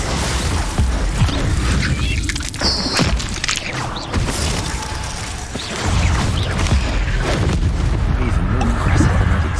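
Glacius ice spell in the video game Hogwarts Legacy, heard as crackling, shattering bursts and heavy thuds amid busy combat noise and mechanical clatter, with a voice speaking over the action.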